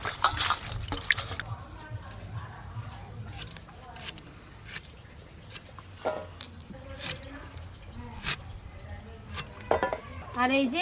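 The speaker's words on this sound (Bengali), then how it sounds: "ভেন্ডি কাটার আগে গোটা গোটা ভেন্ডি ধুয়ে নিতে হয়" Whole okra being washed in water, with dripping, splashing and the clink of a pot or dishes in irregular bursts, close and moderately loud, while a person talks.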